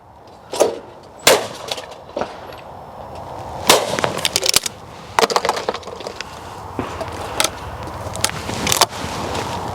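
A Miroku MK38 shotgun fires at clay targets outdoors, several sharp cracking reports spaced a second or two apart, some doubled in quick succession, fairly close with wind-like background noise.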